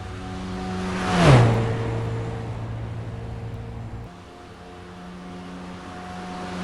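A race car at Atlanta accelerates toward the green flag, its engine note climbing sharply into a loud whooshing pass close by, then settling into a steady droning hum that drops lower partway through.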